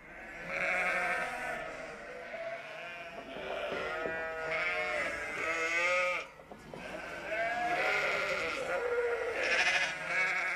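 A flock of ewes bleats continuously at close range, many overlapping harmonic calls rising and falling with no pause, the sheep kept under guard by livestock-protection dogs.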